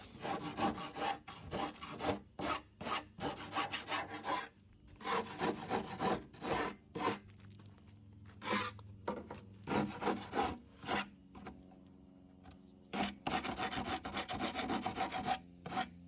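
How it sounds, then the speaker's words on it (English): By hand, someone sands the fiberglass edge of a hydrofoil surfboard in rapid bursts of close, rasping back-and-forth strokes, pausing briefly now and then. "So I sanded this, feels pretty good."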